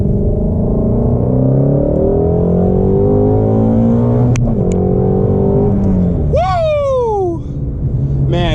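A 2020 Shelby GT350's engine revs hard from inside the car, its loud rising roar climbing toward 8,000 RPM before a gear shift. A sharp crack follows, then the pitch drops and climbs again as it pulls.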